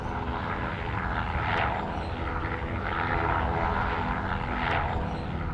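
A helicopter flying overhead in the Australian outback, its steady engine and rotor drone loud and continuous, swelling slightly as it passes.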